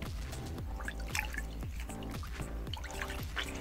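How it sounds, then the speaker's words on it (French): Water rinsing a face at a sink, a steady splashing and dripping with rhythmic pulses of running liquid, close and continuous with no talk. "je vais continuer de rincer"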